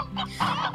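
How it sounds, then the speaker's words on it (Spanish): Chickens in the farming video game Slime Rancher give a quick burst of close, nasal clucks, short and alone. "Un montonaco de gallinas."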